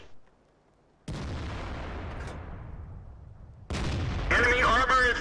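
Heavy booms and impacts strike an M56 Scorpion tank under fire in World of Tanks, with sharp blasts and long decaying rumbles, then a louder burst and crackling radio-like noise, with talk in between.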